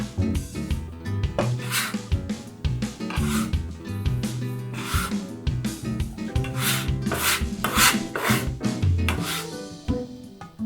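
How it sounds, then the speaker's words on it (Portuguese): Sweet conchas dough kneaded by hand on a counter, with continuous rubbing, slapping and squishing strokes in an irregular rhythm, close and moderately loud, with no talking. "Então aqui a gente vai começar o processo de sovar."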